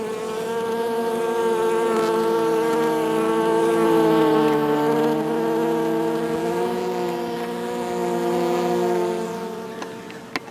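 A swarm of bees hums in a loud, steady drone while building wax comb inside a water meter box, the buzzing pitch wavering slightly, close by and with no talking.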